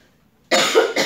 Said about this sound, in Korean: 에어컨이 너무 많이 나오니까 제가 기침이 나오네요